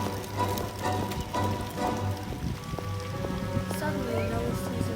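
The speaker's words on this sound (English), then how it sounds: "It's raining!" A rain effect for a school musical production: steady patter and hiss of falling rain fills the stage space, with faint voices and stage noise mixed underneath.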